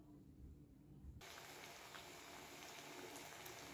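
Poha vadas dropped into hot oil, which bursts into a loud, dense, steady sizzle after about a second of quiet background and keeps crackling close up.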